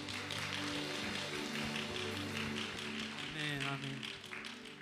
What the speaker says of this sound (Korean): 우리 왕 대신 구주 예수님께 박수 올려드립시다.